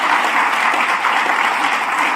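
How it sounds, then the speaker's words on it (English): An audience claps at the grand opening of a new facility in Oakville, a dense, even wash of applause holding steady throughout with no voices over it. "Yes, you can clap."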